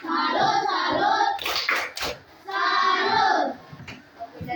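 An elementary class chants and claps the 'tepuk salut' rhythm in unison, children's voices calling out in a sing-song pattern punctuated by sharp bursts of clapping.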